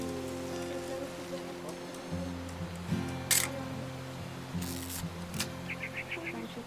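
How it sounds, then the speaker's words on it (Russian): An old camera in the game What Remains of Edith Finch clicking off a few shutter snaps, short crisp mechanical clicks over rain patter and a low droning ambience, with a faint rapid ticking near the end. "I'm gonna take some pictures, okay?"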